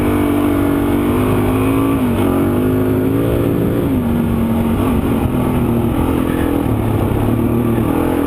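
A dual sport motorcycle holds a steady throttle through a sandy wash in Arizona, its engine droning loud and close with slight rises and dips in pitch.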